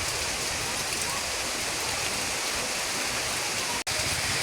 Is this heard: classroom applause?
no